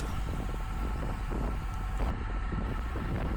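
Crosswind buffeting a microphone on a slight false-flat stretch of a UFOLEP amateur bike race at La Groise, a steady loud low rumble with gusty fluctuations and no voices.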